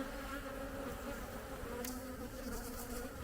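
Honey bees buzzing around an open beehive during a swarming inspection, a dense continuous hum heard close and steady throughout.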